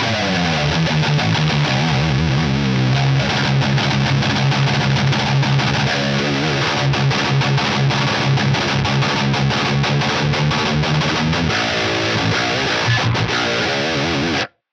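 A thick, distorted seven-string Bacchus electric guitar on the middle pickup, through an Axe-Fx III, plays loud sustained chords and riffs, tight and articulate, filling the whole stretch before cutting off abruptly at the end.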